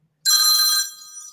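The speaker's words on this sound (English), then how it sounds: "Phone is ringing." A telephone bell gives a single loud, close ring that holds for about half a second, then fades into a ringing tail.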